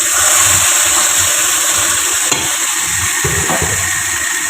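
Boiled figs, here the Bengali vegetable dumur, fry in hot oil with cumin and bay leaves in a wok, giving a loud, steady sizzle with the soft scrape of stirring now and then.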